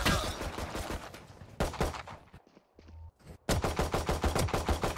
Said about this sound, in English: She shot me 5 times